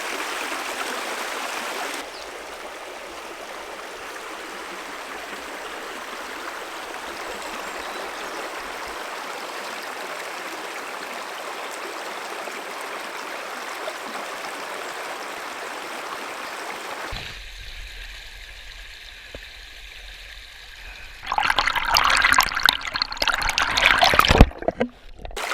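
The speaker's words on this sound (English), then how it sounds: "We're back at the river." A river flows with a steady broadband rush of water for most of the stretch, then the sound shifts to closer, louder splashing and rustling near the end, with no talk.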